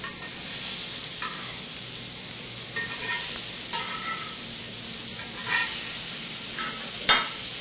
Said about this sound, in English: we need to get our burgers on the grill